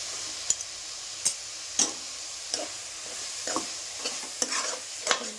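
Spoon stirring vegetables and curd in a pan for pulao, a series of separate scraping strokes roughly once per second with a faint sizzle underneath, close and alone without talk.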